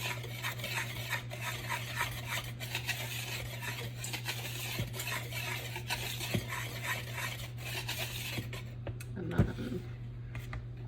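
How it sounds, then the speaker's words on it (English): Banana bread batter for a cinnamon crunch loaf is whisked in a bowl, making a steady, rhythmic scraping and tapping of the whisk against the sides that continues close and moderately loud before easing off at the end. "Whisk this together, make sure it's all nice and evenly distributed."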